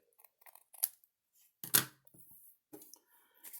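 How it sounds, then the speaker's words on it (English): Scissors trim excess paper from the edges of a glued lattice card in a few short, crisp snips spaced irregularly, close and fairly quiet. "so just trim that away."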